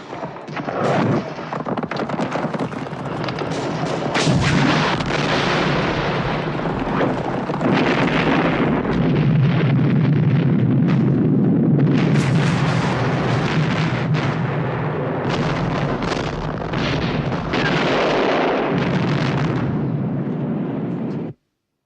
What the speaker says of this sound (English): I'll blow up the benzene